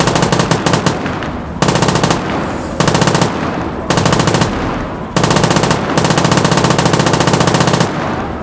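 Machine gun fire in a Siege of Warsaw battle scene rattles loud and close in long sustained bursts separated by short pauses, each burst a rapid even stream of shots.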